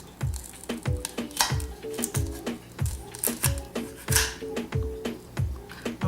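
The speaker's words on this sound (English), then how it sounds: "I will cut each carrot in half." A knife chops through carrots on a board in a steady run of about a dozen sharp, close thuds, evenly spaced, with a faint tonal hum in the background.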